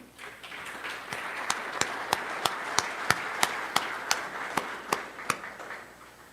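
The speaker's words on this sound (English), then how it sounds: "So let's give them all a round of applause." Audience applause at an awards luncheon, with one close, steady rhythmic clap standing out over a softer wash of hands.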